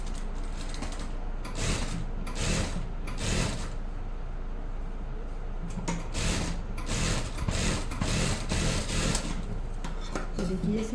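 Sewing machine stitching the top seam of a pocket on a pair of pants, rhythmic mechanical whirring in repeated bursts with short pauses, close and fairly loud.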